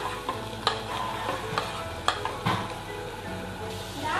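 Onions and ginger get stirred and fried in a pan while street-style veg momos are being made, with a close, steady sizzle and repeated sharp scrapes and clinks from the spoon against the pan.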